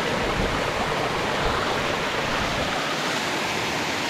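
A mountain stream splashing and rushing, a dense continuous close roar of running water with no voices over it.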